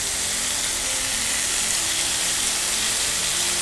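Chicken shashlik sizzling in a pan as pieces are flipped, a loud, steady hiss of frying oil that fills the whole clip without pause or talk.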